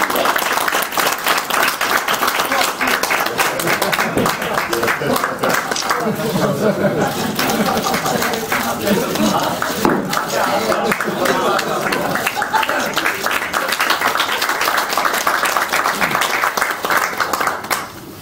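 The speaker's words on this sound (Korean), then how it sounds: "우리 인천 지역위원장님들 대표님과 우리 당직자 여러분께 큰 박수로 감사함을 표시해드리겠습니다" Applause from party regional chairs and officials at a Democratic Party of Korea supreme council meeting held on-site in Incheon, a steady dense clapping that runs for most of the stretch with voices mixed in.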